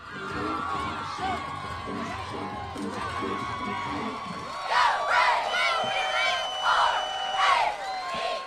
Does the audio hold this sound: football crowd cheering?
yes